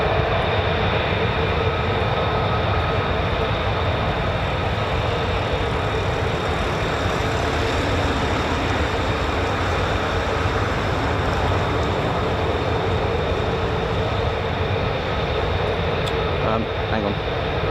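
Military jet aircraft at RAF Lakenheath, home of the 48th Fighter Wing flying F-15s and F-35s, giving a steady, loud, broadband roar that persists throughout with no break or fade.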